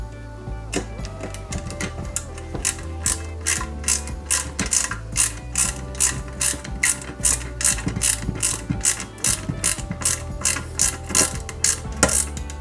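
A small screw is driven into a 1/8-scale Lotus Renault 97T model car kit, giving a rapid run of close, crisp ratcheting clicks in uneven bursts. A faint low background hum runs throughout.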